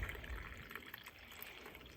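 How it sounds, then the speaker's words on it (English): Water is poured into a cold brew coffee maker, a soft continuous trickle and splash, close but quiet. "Pour the water in the coffee."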